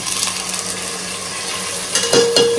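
Vegetables including potato, cauliflower, peas and carrots frying in a hot pan, a steady sizzling hiss with a few metallic clinks of utensil against the pan toward the end.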